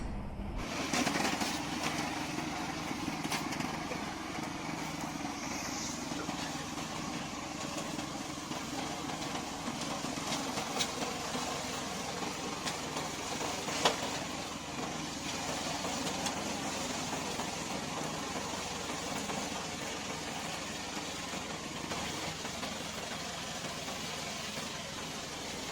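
Small engine of a tracked remote control lawn mower runs at a steady idle-like drone throughout, close by and continuous with no talk.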